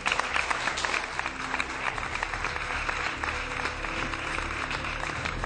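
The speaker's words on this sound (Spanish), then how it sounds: "Le damos un aplauso." An audience claps for about five seconds, dense and sustained applause at an even level with a faint crowd murmur beneath it.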